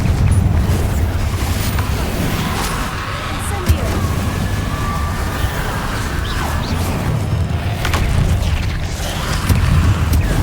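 Blasting curse spells cast in a fantasy action video game during a fight against Inferi, repeated booming bursts over a dense, continuous wash of game noise and music, with a voice calling out spell names throughout.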